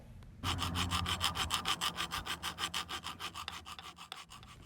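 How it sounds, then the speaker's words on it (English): A file rasps rhythmically against a metal pruner blade in quick, even back-and-forth strokes, close and steady, with a gritty grinding texture and no talking. "we get some more of that sweet grinding sound of metal on metal"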